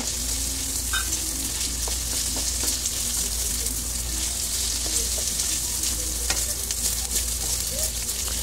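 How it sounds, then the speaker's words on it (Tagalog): Chicken stir-frying in oil in a pan, a loud, continuous sizzle with occasional stirring scrapes and clinks throughout, no voices. "At igigisa po na, stir fry po natin ang chicken."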